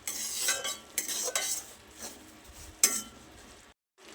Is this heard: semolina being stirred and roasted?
yes